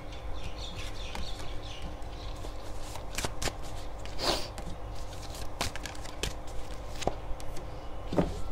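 Playing cards are shuffled and handled in a steady run of close riffling and sliding, with sharp flicks and taps scattered through the texture and no talking.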